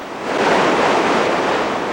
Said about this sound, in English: At the beach, some good waves for the surfers.